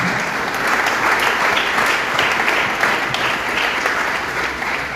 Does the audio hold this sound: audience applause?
yes